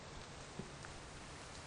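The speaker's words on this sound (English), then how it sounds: "Oh god, it's raining now," Steady, even patter of rain in a video game about surviving the infected, a continuous soft hiss of drops with one brief faint knock near the start.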